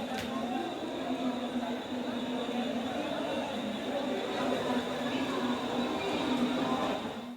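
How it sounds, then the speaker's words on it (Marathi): Train noise at CSMT railway station in Mumbai: a steady rumble with a hum and faint hiss runs through the whole stretch, without a clear single event. "सगळी दृश्य सीएसएमटी रेल्वे स्थानकावरची आहेत"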